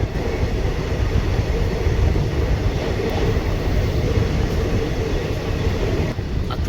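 A train running on the Kolkata to Mayapur route rumbles loudly and steadily from close by, a constant rolling roar with no breaks.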